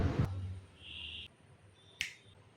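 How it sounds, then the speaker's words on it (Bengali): A finger snap in a home kitchen: one sharp, close click stands out clearly at about two seconds, with no talk and only a faint low rumble, a brief hiss and a couple of soft clatters around it. "সেই তুড়ি মারের স্টাইলটা বহুদিন পর আবার করলাম"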